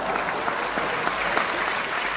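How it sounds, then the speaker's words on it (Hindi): Sparse clapping from two or three people at a Hindi poetry gathering, quick uneven claps over a steady background murmur, fairly faint and short. "दो तीन लोग ताली बजा रहे हैं"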